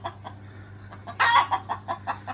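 A hen clucks repeatedly in short, close bursts, rising to one louder squawk midway, over a steady low background hum.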